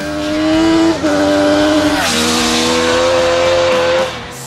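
MV Agusta motorcycle engine revving hard and close, a loud, raspy sustained howl whose pitch dips and shifts between rev steps, with no one talking.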